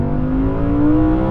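A rear-wheel-drive Audi R8 engine revs loud and close, a steady rising mechanical drone with a climbing tone through the whole short burst and no talk over it.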